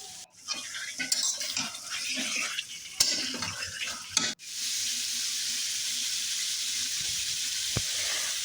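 Homegrown chicken curry cooks down in a pan, first with clattering stirring and utensil knocks, then settling into a steady, loud hissing sizzle after a sharp break.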